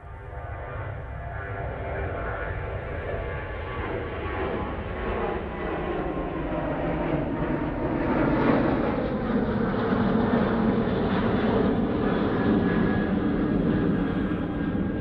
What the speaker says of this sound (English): Ryanair now on the roll. Using a fair bit of runway here.